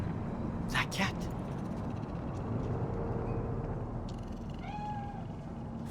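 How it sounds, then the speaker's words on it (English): Single short meow from a cat in the Cyberpunk 2077 video game, heard in a city setting of Night City, faint and brief beneath steady ambient hum and a voice talking. "Fine-looking feline."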